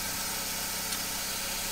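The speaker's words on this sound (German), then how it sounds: "starten wir einmal die Karre, gucken, ob es jetzt dicht ist. So, der Motor läuft." A BMW M43 car engine idles steadily after an oil filter housing repair, a continuous close, even running hum with no talk.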